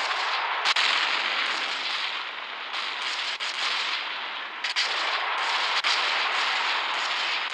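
Bombing runs in the Gunship Battle video game set off a dense, continuous roar of explosions and gunfire, loud and close, with sharp individual blasts breaking through the rumble.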